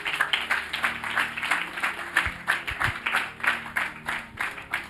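A church congregation applauding, steady rhythmic clapping from many hands, close and fairly loud, with a few low thumps partway through.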